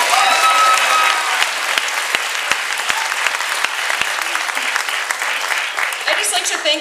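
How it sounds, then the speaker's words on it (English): Loud, sustained audience applause at an energy fair keynote event in central Wisconsin, dense clapping with a few sharp close claps standing out and some crowd voices mixed in. "So big round of applause."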